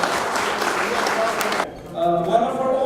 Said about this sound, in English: I request all of you to put your hands together and applaud the media